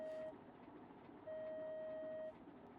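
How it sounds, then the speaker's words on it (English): In the BeamNG driving game, a vehicle's reverse alarm gives two steady electronic beeps, a short one and then a longer sustained tone, faint over a low engine hum with no talking. "The reverse beep."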